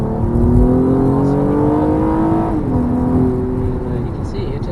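A Honda Accord V6 coupe engine accelerates, its tone climbing steadily, easing briefly, then pulling up again, loud and close.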